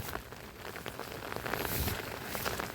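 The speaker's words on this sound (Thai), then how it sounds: "ฝนตก" Rain falls steadily outdoors in rural Thailand, a soft, even patter of drops on surfaces with scattered faint ticks, quiet and continuous.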